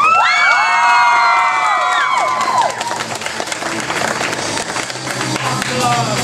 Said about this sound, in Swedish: En mycket varm applåd till Gustav.